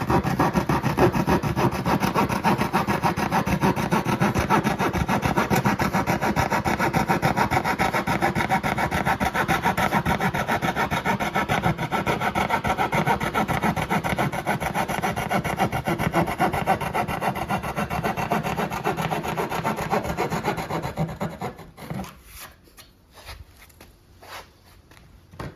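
A hand coping saw cuts through a wooden baseboard with a steady, rapid back-and-forth rasp. The close, continuous strokes run for over twenty seconds, then slow and fade into a few scattered scrapes.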